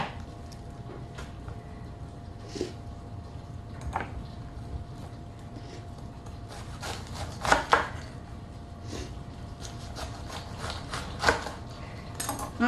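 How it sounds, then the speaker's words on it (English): A strong knife cutting the top and sides off a cabbage on a board, a handful of distinct crisp chops and cracks spaced irregularly, close and fairly quiet between cuts. "just take the top off of your cabbage. Then proceed to take your sides off."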